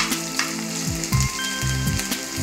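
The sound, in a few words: ginger garlic paste frying in a pan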